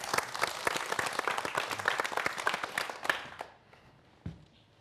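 A lecture audience applauds as a parasitology professor is introduced. The clapping is brisk and fairly close, with distinct individual claps for about three seconds, then it dies away into near silence with one last soft thump.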